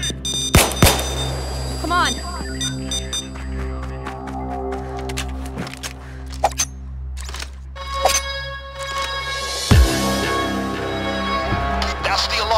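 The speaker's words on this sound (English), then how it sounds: "That's the alarm." In the Payday 2 GO Bank heist, a bank alarm rings as a steady, tonal wail throughout. Sharp gunshots and a brief voice cut in over it.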